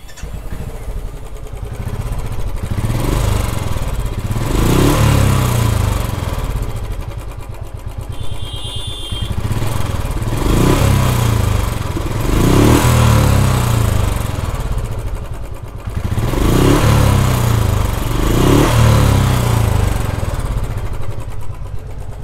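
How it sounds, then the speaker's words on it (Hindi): A Royal Enfield BS6 motorcycle engine runs steadily nearby with a cracked, rough noise, a continuous low throbbing drone with slightly rising and falling pulses and no talk over it. "तो साउंड आप लोगों ने देखा फटा हुआ आ रहा है।"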